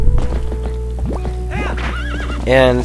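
Epona, the horse in Zelda: Twilight Princess, gives a couple of loud, close whinnies, the longest rising near the end, over a steady game music drone with light hoofbeats early on.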